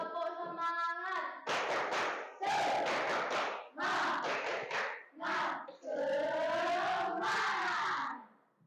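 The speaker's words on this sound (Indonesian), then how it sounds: "Tepuk semangat." A classroom of students performs a rhythmic spirit clap, chanting together in bursts punctuated by sharp group claps, loud and close, in a repeated call-and-clap pattern.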